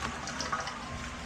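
Water runs steadily from a tap while it is being collected, a continuous close splashing rush with no breaks.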